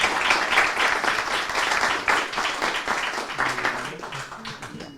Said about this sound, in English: please join me for an applause for our panelists